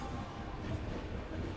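An Amrit Bharat train from Malda Town to SMVT Bengaluru rumbles into Gudur railway station, a low, steady, distant rolling drone with no distinct wheel clacks, faint and continuous.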